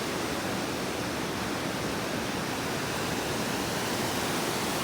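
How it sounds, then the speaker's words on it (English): Rushing river water roaring through Clarendon Gorge below a suspension bridge on the Appalachian Trail, a steady, loud, broadband wash with no breaks, heard alone without voices. "Really noisy for no bigger than what the water is."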